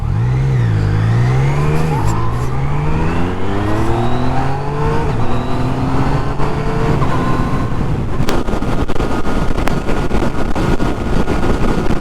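A 2019 Yamaha MT-09 naked motorcycle accelerates hard through quick-shifted gears: loud, close engine notes climb repeatedly with brief shift breaks, then fade into steady road roar and heavy wind buffeting.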